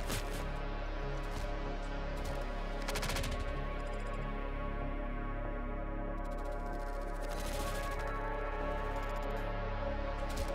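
Continuous gunfire from the first-person shooter Hyperviolent, rapid bursts and scattered shots layered over a steady game soundtrack, sustained at moderate loudness with no talk.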